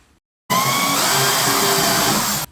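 A power drill whines loudly and steadily for about two seconds, drilling through spot welds on a 1968 Shelby Mustang GT500 body panel, starting abruptly and stopping sharply, with no voices.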